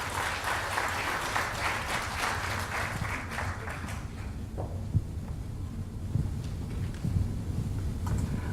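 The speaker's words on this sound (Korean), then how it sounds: "큰 박수로 환영해 주시기 바랍니다." Crowd applause at a local election social welfare policy presentation in Yongin is brisk and full at first, then thins to scattered claps over a low room hum.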